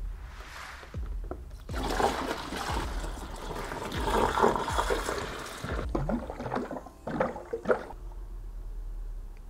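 Liquid fermentables from an extract beer kit pour and splash into a fermenter, a gushing, sloshing rush of several seconds with a few clunks and trickles as it tapers off.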